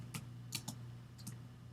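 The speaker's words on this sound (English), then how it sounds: "So I'll type in ExifTool" Light, close keystrokes on a computer keyboard, a few quick clicks in small bursts with pauses between, faint over a low steady hum.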